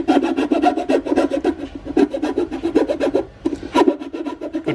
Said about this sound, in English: So more filing.